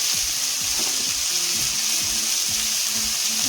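Ridge gourd and potatoes fry in a pan with turmeric, cumin powder and salt, giving a steady close sizzle with soft scraping stir strokes running throughout.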